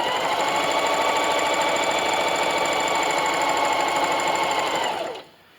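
A sewing machine stitching diagonal lines across a rag quilt made from old clothes whirs in one continuous, fast, close run, then slows and stops near the end.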